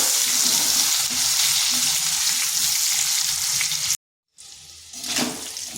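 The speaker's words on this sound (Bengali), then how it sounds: "আলুগুলো একটু লাল লাল করে ভেজে নেব" Potatoes fry in oil in a home kitchen pan with a steady, dense hiss. The sizzle cuts out briefly and then returns with some stirring and clatter.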